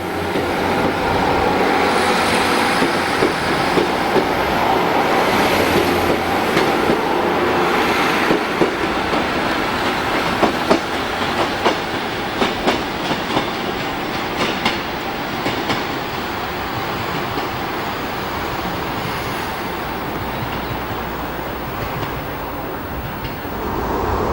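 A British Rail Class 150/2 diesel multiple unit runs past at Deganwy, its engine drone loud and steady while wheels beat out repeated clickety-clack rhythms over rail joints, fading slightly toward the end.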